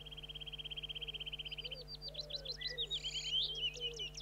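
Small birds in a city forest chirp and trill in quick, high phrases, starting with a fast rapid series, fairly faint against a steady low hum.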